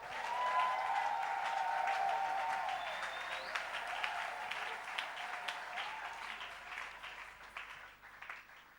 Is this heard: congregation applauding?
yes